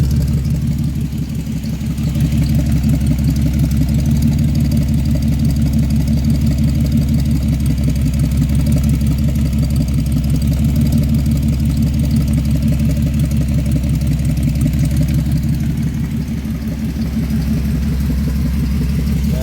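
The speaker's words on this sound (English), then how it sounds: "She's sitting here idling, nice and smooth." A 3.4-liter V6 engine in a 2000 Pontiac Grand Am idles steadily for the whole stretch, a smooth, even low rumble with only slight dips, no talking.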